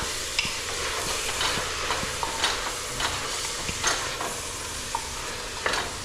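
Chicken curry with green chilli and tomato is stirred in a pan, a steady soft sizzle under repeated scraping and clinking strokes of the spoon, close up with no talking.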